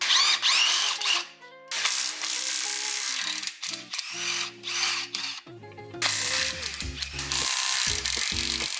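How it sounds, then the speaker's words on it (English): A power tool whirs and ratchets in close, loud, intermittent bursts while undoing the four bolts that hold a stock sway bar on an off-road vehicle. "it's only 4 bolts, and that should be pretty easy to undo, so we're going to do that right now"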